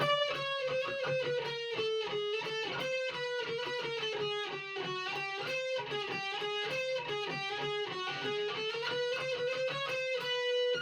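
A distorted electric guitar plays a melodic riff with a gritty, buzzing tone, steady and loud throughout, no voices.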